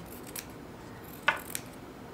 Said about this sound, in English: now I'm going to trim away the excess